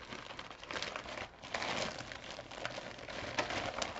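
Plastic or paper packaging crinkles and rustles steadily as a package is unwrapped up close, with dense continuous crackling and a few louder rips, no voices.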